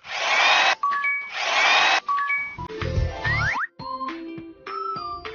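Robot parts are screwed on in a kids' video game: two loud whirring drill-like bursts, followed by a run of bright cartoon boings, chimes and clicks in quick succession.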